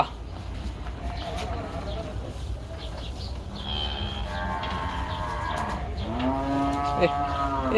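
Cattle moo at the Gabtoli cattle market, with long low calls rising toward the end over steady crowd murmur and a voice speaking nearby; one voice briefly imitates a moo.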